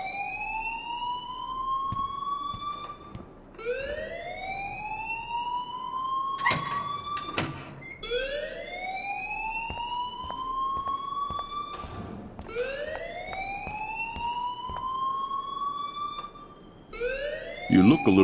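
An electronic fire alarm in the video game Life Is Strange wails in repeated rising sweeps at a steady pace, with sharp clanks and background voices under it.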